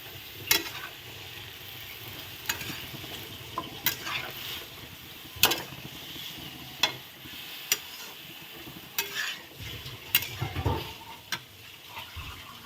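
A ground paste of onion, garlic and chili is sautéed in a pan under a soft sizzle, with a spoon striking and scraping the pan in repeated sharp clinks at irregular intervals.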